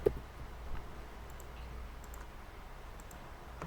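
A computer mouse clicks while someone works in SPSS software, giving a few faint, scattered clicks over a low, quiet room hum.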